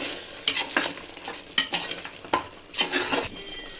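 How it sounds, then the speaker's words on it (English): A spoon stirs a cup of curd into sautéed mutton biryani masala in a pot, making repeated wet scraping strokes in uneven bursts over a low frying sizzle. The sound is close-up, with no talking. "now we will add 1 cup curd and mix it well"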